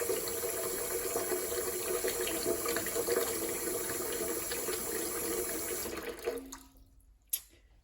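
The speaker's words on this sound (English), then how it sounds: "So just filling up that bowl as much as you need to fully submerge your project" Tap water runs steadily into a bowl for hand washing a wool scarf, a dense continuous gush that cuts off near the end, leaving a few faint drips and clinks.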